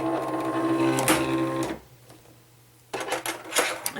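Silhouette Cameo cutting machine whirring as it loads a prepped mat, a loud motorized grind that stops abruptly, followed by a brief quiet and then renewed mechanical clicks and clatter.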